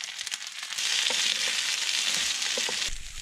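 Loud, steady sizzling of rice frying in a hot pan, swelling up after a quieter start with a few scraping stirs, then easing off at the end.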